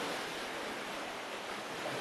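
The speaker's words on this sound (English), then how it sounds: "not far above the waves." Sea waves wash steadily against a rocky coastal shore below a cliff path in Fife, a dense, even roar with wind across the microphone and no voices.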